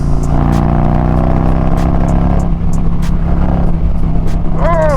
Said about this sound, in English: do y'all hear that Khrome Werks back there?